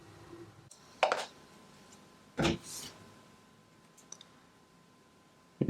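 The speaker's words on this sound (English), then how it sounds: "that click noise when inserting the charge cable" Two distinct plastic clicks a second or so apart, close and crisp, as a charge cable is inserted into a MagSafe battery pack, followed by faint small clicks in a quiet room.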